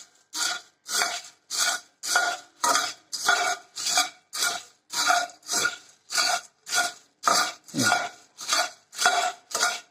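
Puffed rice (churmure) being roasted in a pan makes a steady, rhythmic rasping scrape, with about sixteen even strokes repeating close by and nobody talking.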